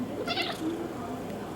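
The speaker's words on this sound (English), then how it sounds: "And Mr. Kitty wanted to say hi" A cat gives a short meow up close, mixed with speech from a person nearby in an indoor room.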